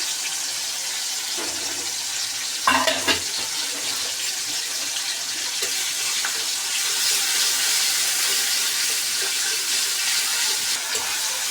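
Tomato masala with salt and ginger-cumin paste fries in a pan for a soybean curry: a steady, fairly loud hiss of sizzling runs throughout, with a brief clatter of utensil contact near the start.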